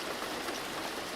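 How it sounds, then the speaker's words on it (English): Steady rain falling in a video game, a dense, even hiss of drops with no pauses or speech throughout. "And now we have rain."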